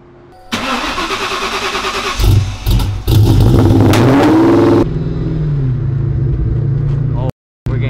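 A Whipple-supercharged 5.0 engine in a Cobra cranks, catches and revs loudly up close, then settles into a rough, sputtering idle that cuts out briefly near the end, with voices talking over it.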